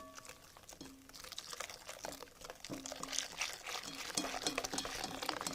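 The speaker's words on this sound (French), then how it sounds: "Je mélange tout en reversant le chocolat au lait, pour ne pas faire cuire les jaunes d'œufs rapidement." Hot milk chocolate is poured into an egg yolk mixture while a whisk stirs it in a bowl, giving soft liquid sloshing with repeated light scrapes and taps, quiet and close.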